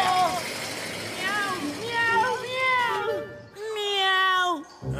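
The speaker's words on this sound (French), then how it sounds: "Comment un chat a pu arriver ici?" A cartoon cat meows repeatedly in a string of drawn-out, rising and falling cries, loud and close, with speech-like voicing mixed in.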